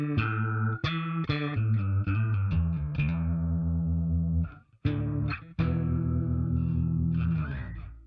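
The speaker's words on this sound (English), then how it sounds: "The next one I have is a flanger effect." A bass guitar played through a flanger pedal on a worship bass pedalboard, notes ringing with a sweeping, whooshing comb-filtered shimmer, a string of plucked notes, a brief gap, then sustained notes swelling under the moving effect.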